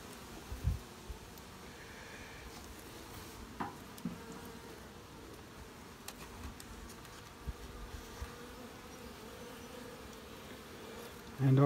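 Honeybees buzz softly around a row of small mini nuc hives outdoors, a steady low drone with occasional faint clicks and knocks from handling the boxes. A louder thump comes at the very end.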